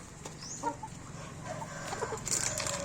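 Backyard chickens cluck at feeding time among turkeys and ducks, with short clucks and calls scattered across a steady low farmyard hum and a brief higher squawk near the end.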